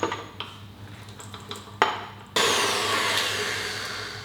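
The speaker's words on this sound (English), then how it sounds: "So I'm going to stop the mixer there" An electric mixer creams butter and icing sugar for Mexican wedding cookies: a few light knocks and scrapes against the bowl, then the motor starts up with a loud, steady whirr that runs to the end, with no talking.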